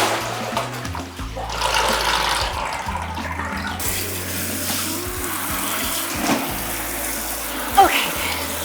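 Running water rinses hair dye out in a sink or shower, a continuous close hiss and splash that shifts in tone partway through, with faint voice-like sounds underneath.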